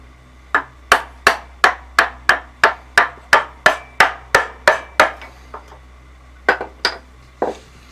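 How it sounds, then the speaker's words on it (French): A wood chisel is struck to free a sawn block of wood: about fifteen sharp, evenly spaced mallet knocks ring out close by, then a short pause and a few more scattered blows. "on va dégager le bloc avec un coup de ciseau bien placé"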